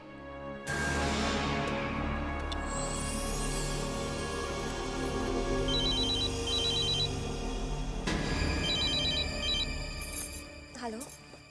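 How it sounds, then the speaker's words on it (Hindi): A telephone rings in a Hindi TV drama, a repeated electronic ring tone in short bursts over a continuous dramatic music bed, with the ringing returning a second time later. "अनुपमा दीदी को फोन करती हूँ।"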